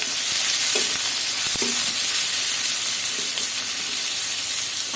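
Chopped onions frying in oil, a loud continuous hissing sizzle with faint clinks of a utensil against the pan.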